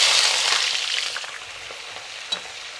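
Steady loud sizzling of onion and sweet peas fast-frying in hot oil, with a few stirring scrapes, gradually settling a little quieter.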